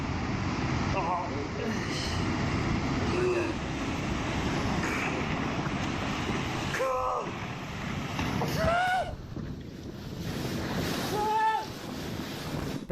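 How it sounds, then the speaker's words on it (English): Heavy ocean waves crash and roar against a cruise ship bound for Ireland, a constant loud wash of water and wind with people shouting and exclaiming over it. "this cruise ship was on its way to Ireland when it ran into some pretty heavy waves"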